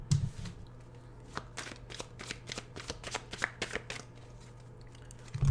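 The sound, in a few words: shuffling cards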